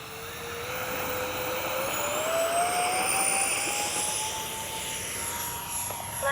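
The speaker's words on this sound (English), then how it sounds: "I think I got these flaps set where we're going to give a nice scale takeoff." An RC model C-17 Globemaster jet rolls out for a scale takeoff with flaps set, its turbine whine rising steadily in pitch as it spools up, loud and continuous throughout with no voices.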